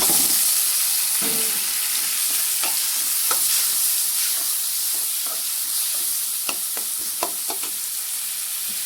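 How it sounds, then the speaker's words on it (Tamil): Tomatoes sautéing in a pan over a bell pepper (capsicum) gravy base, a steady loud sizzle and hiss with scattered clicks and scrapes of stirring, close up and without voices. "இப்போ வந்து தக்காளி சேர்த்து வதக்கிக்கலாம்"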